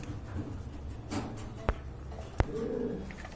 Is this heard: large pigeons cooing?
yes